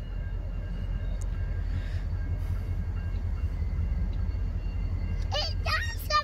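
A CSX freight train rolls past with a steady, loud rumble of wagons that stays constant throughout, while someone talks briefly near the end.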